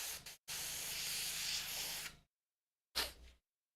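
An airbrush being cleaned out, sending a long close hiss of spray, a short break, then a second brief burst, all without voices.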